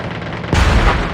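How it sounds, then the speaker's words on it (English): Gunfire in the zombies mode of the mobile shooter game Call of Duty Mobile: a sudden loud burst halfway through gives way to sustained booming, crackling shots over a continuous background of game noise. "so gunshots over there"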